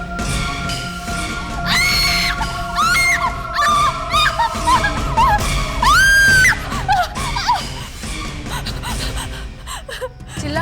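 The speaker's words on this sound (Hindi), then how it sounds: "चिल्ला क्यों रही हो?" A woman lets out high, wavering screams and gasps in a Hindi horror drama scene, several loud shrieks rising and falling across the clip over a dim, rumbling background.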